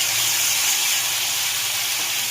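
Tomato paste with black cumin and turmeric hitting hot oil in a wok after frying katla fish, giving a steady, loud, close hissing sizzle with no voices.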